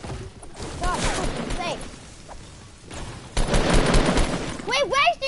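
Gunfire in the video game Trove comes in bursts of rapid shots and blasts. Voices talk and shout over the shots throughout.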